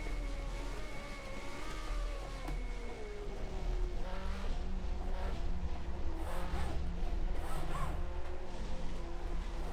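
A 1975 Formula 1 car engine in the racing sim rFactor 2, a loud continuous high-revving scream with rising and falling pitch through gear changes, tyre noise mixed in, and no talking.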